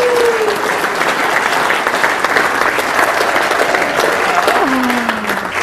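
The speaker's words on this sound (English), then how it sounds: "A nice round of applause." Sustained, loud applause from a large crowd at a keynote speaker event fills the whole stretch, dense steady clapping with a faint voice briefly rising underneath.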